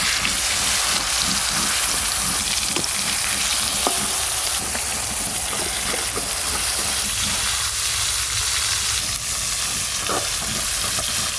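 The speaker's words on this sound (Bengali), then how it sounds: "এবার মাছগুলো ভেজে নেব।" Chunks of a large pangas fish fry in hot mustard oil, a loud continuous crackling sizzle like heavy rain with stirring scrapes and sporadic pops, close up and uninterrupted.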